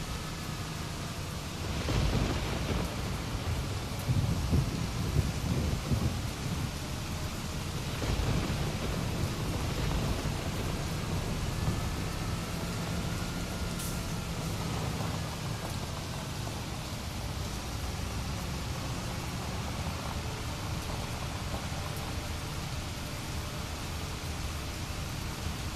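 Rain and low rolling thunder in a farming video game set in Westbridge Hills, a steady hiss of rainfall with a few deep rumbles swelling early on, continuous throughout.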